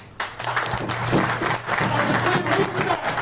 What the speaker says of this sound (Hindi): इस होल के लिए तालियां